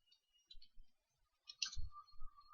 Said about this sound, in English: I'll type my mail address as well